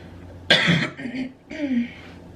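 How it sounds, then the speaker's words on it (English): Two short, harsh allergy coughs close to the listener, a cough or throat-clear followed by a second rasping cough a second later, with no talking. "I don't even have a cold, I just have a cough."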